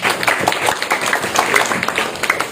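A seminar audience in a hall applauds, a dense patter of many hands clapping steadily for a couple of seconds at fairly close range.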